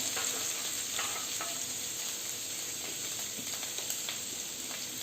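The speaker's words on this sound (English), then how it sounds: "After adding the salt, cook it for next 2 minutes." Chopped capsicum fries in a salted pan, a steady close sizzle broken by light scraping strokes of stirring, with no talking.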